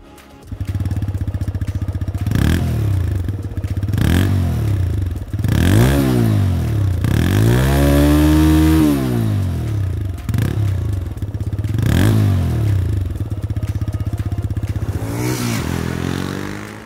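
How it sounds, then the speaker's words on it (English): A TVS Raider 125 motorcycle's single-cylinder engine idles loudly up close, then revs repeatedly in rising and falling blips, with one longer rev around the middle and a throaty exhaust note throughout. "Let me fire up the engine for you to hear the exhaust note."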